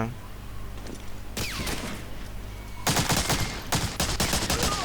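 Gunfire in the video game Medal of Honor Breakthrough: a sharp shot or two early on, then dense rapid bursts of automatic fire crackle loudly. Voices talk faintly underneath.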